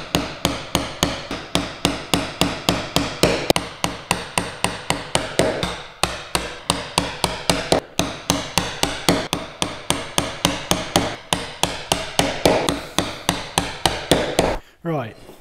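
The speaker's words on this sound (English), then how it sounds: "now we can put the chisel into the line" A hammer or mallet strikes a chisel again and again while cleaning up tenon shoulder lines by hand, a steady run of sharp, close knocks about three each second, with a couple of brief pauses.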